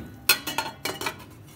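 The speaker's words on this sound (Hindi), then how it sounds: "और इसके ऊपर जाली रख देंगे" A metal steaming rack is set down over a pot of water, giving several sharp metallic clinks and rattles in quick, uneven succession, close and fairly loud.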